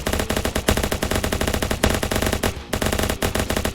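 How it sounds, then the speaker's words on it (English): Dense, loud gunfire in the Ancient Warfare 3 video game, rapid machine-gun bursts rattling almost continuously with brief gaps, close and heavy, no talking over it. "Oh my, that's a lot of incoming fire."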